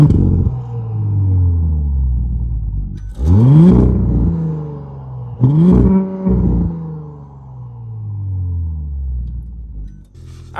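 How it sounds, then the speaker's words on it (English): Stock 2018 Audi S5 Sportback engine idling, then revved twice in sharp bursts that climb and fall back to a steady idle, loud and close with no talk. "we're gonna rev it a little bit so you know what it sounds like when it's stock"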